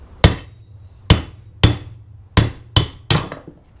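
Six sharp metallic blows from a metal hammer on engine parts of a KTM 250 EXC being dismantled ring out at uneven intervals, each loud and close with a brief decay.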